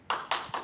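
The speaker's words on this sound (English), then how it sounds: "OK, we got first applause for that one." A conference audience at a Microsoft Entra security talk gives a brief, scattered round of applause: three quick bursts of clapping, close together, with no talking.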